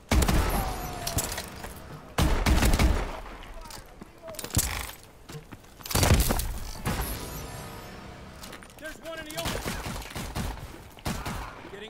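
Rapid bursts of automatic gunfire from the video game Call of Duty Advanced Warfare in an infected multiplayer match, loud and close, with repeated volleys and impacts while game voice callouts speak over the action.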